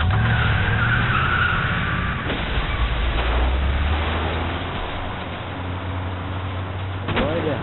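Car in The Walking Dead video game pulling away and skidding, with a low engine rumble and tire noise running under a voice that speaks over much of it.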